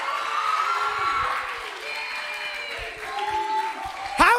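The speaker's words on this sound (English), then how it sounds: "give a great round of applause" Audience applause and cheering after a comedy set at a Summer Bash 2021 show, steady crowd clapping filling the room, with a sharp burst near the end.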